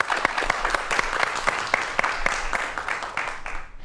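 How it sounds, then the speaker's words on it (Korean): Audience applause fills a lecture hall at a talk on mobile information security, a dense, steady wash of many hands clapping with a few sharper claps poking out, fairly loud throughout and tapering slightly at the end. "박수 부탁드릴게요"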